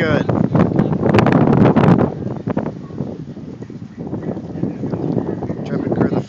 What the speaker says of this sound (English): little bit windy right now.